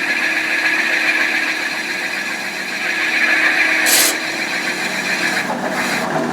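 A cutting tool trims an engine valve guide, giving a loud, steady, close grinding whir that holds for several seconds and briefly shifts toward the end.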